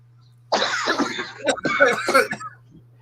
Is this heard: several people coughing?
yes